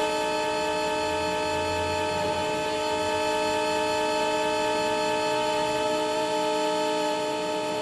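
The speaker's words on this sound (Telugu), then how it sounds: "ఆపోజిట్లో ఇంకో ట్రైన్ కూడా స్టార్ట్ అయింది బ్రో" A train starting up in the Indian train mobile game RG Train-Tech Demo, heard as a steady, even engine drone with layered tonal hum that continues throughout without a break.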